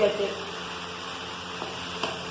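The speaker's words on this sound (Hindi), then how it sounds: "सेपरेट करने के बाद हम इसको मसाले के साथ मिक्स करेंगे" Cooked elbow macaroni being stirred with spices in a pan, a soft continuous sizzle with a few light scraping knocks of a spoon.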